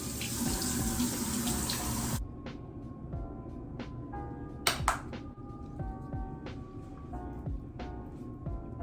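Tap water gushes loudly into a sink for a couple of seconds while a face is washed with Simple Face Wash, then stops, leaving scattered drips, clinks and soft handling sounds.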